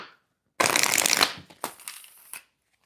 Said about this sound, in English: while I'm shuffling your cards